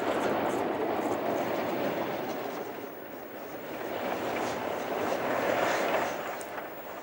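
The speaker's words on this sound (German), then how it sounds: "In Markt Schorgast wurde die Schublok dann abgekoppelt und fuhr allein zurück nach Neuenmarkt" A banking locomotive, uncoupled at Markt Schorgast, runs alone back toward Neuenmarkt on the Ludwig-Süd-Nord railway, producing a steady rolling rumble and rail noise that swells and eases slightly throughout.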